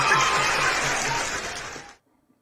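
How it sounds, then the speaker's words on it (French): A crowd cheers and applauds in acclaim for the Baoulé, a dense wash of clapping and shouts that holds steady and then cuts off abruptly into silence. "Acclamation pour les baoulés"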